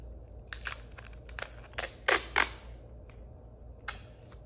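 A piece of tape is pulled and torn off the roll for making a paper ring, heard as a series of close, crinkly rips and snaps of varying loudness with gaps between them.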